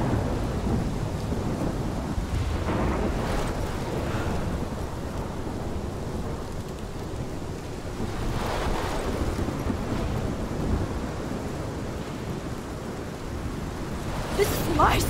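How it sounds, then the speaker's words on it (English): A storm rages in the Life is Strange video game, with steady heavy rain and rolling thunder that swells around the middle and again near the end, all fairly loud and continuous. "This is my storm."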